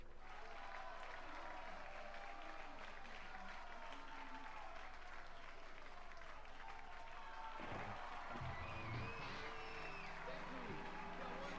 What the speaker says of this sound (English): This game can render an entire crowd of people,